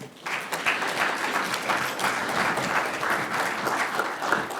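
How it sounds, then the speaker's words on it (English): A large audience claps at a formal address on historically Black colleges, with dense, sustained applause starting abruptly and holding at an even level throughout, no voices over it. "Let's clap our hands again for Mr. Lambert."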